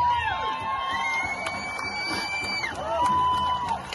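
A rally crowd cheers and whoops steadily, with scattered shouts and whistles rising over a dense, continuous roar of many voices.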